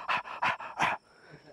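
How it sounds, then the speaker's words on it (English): Loud, close breathing in the woods at MacRitchie Reservoir: three rhythmic, heavy panting breaths in quick succession, like a dog, then fading to quiet. "we've been hearing this, this loud breathing"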